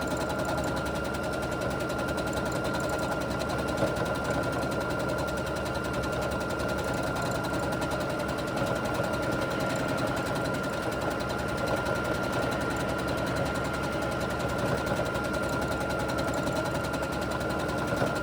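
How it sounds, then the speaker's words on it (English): Sewing machine stitching free-motion thread painting on fabric, a steady rapid mechanical whirr and needle chatter running nonstop at even speed, close and loud. "Now you can do your thread painting up and down, filling in the shape."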